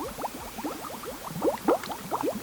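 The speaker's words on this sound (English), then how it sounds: "Loads of bubbles in and going up, up." Bubbles pop and gurgle in quick, irregular bursts as they rise through a homemade underwater volcano of water, oil and vinegar, close and fairly quiet.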